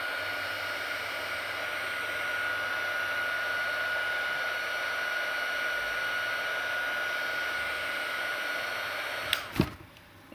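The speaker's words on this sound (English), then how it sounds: "let me just dry a little bit" A hair dryer blows a constant, loud whirring hiss over alcohol ink on a playing card, holding steady for about nine seconds before it is switched off with a couple of clicks and falls silent.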